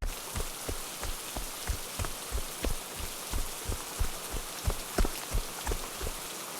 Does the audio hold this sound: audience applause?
no